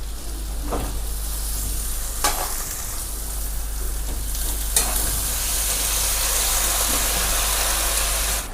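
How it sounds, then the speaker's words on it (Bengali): Greens and eggplant frying together in a pan while being stirred, a continuous bright sizzle with occasional scraping strokes of the spoon, close and fairly loud over a low steady hum. "আমি এখন শাক আর বেগুনটা একসঙ্গে দিয়ে দেবো"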